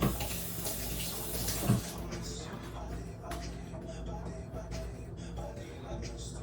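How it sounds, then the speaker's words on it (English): Water runs steadily from a kitchen tap while a hand is rinsed under it, a continuous close splashing hiss with a brief louder splash early on. "I'm gonna rinse my hand."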